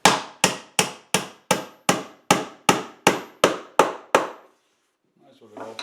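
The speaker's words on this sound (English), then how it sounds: "this nail is piloted until the last half goes in, and you might be able to hear the sound change" A hammer drives a piloted nail into wood with about eleven evenly spaced sharp blows, loud and close, the tone shifting slightly as the nail goes deeper. Silence follows, then faint movement and a brief soft voice.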